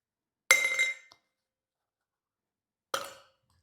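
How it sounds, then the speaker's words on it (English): Ice cubes dropped into a cocktail shaker while mixing an Army & Navy cocktail give two separate bright clinks, close and crisp, a couple of seconds apart with silence around them. "Then you go ahead and add a couple ice cubes to the shaker."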